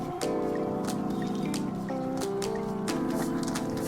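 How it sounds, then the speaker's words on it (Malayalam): Raw chicken is mixed by hand with marinade spices for chicken tikka masala, producing soft, wet squishing and squelching sounds over steady background music. "ഇതെല്ലാം കൂടി ചേർത്ത് നന്നായിട്ടൊന്ന് മാരിനേറ്റ് ചെയ്തെടുക്കാം"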